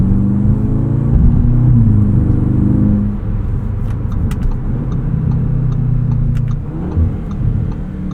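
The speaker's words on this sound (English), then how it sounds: "Nice sounding turbocharged 4-cylinder here." A 2025 Audi S3's turbocharged four-cylinder engine pulls hard under acceleration, a loud, steady drone that rises in pitch, eases after a shift partway through, then builds again, heard from inside the car.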